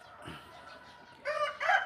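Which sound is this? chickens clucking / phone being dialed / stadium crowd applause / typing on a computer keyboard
chickens clucking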